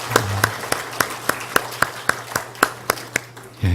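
A church congregation at a worship service claps in unison for God, about a dozen evenly spaced, sharp claps in a steady rhythm over a low hum, ending with a louder thump.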